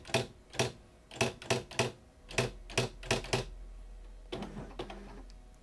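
An electronic daisy wheel typewriter strikes out a rapid run of sharp clacking characters, then a softer, quicker burst of printing, with a faint hum underneath.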